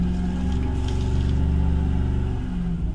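A Jaguar XKR engine with an idle fault held at half throttle, a steady loud mid-pitched drone that builds slightly and then eases near the end, close by with no talk.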